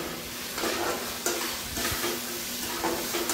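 Cumin, dry red chilli and black mustard seeds are frying in hot oil in a pan, with a loud continuous sizzle broken by repeated scraping strokes of a spatula, up close.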